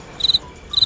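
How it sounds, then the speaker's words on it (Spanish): A cricket chirps close by in two short, bright bursts of rapid trilled pulses, separated by a brief pause, over quiet background. "Ah, el grillo. El grillo, exacto."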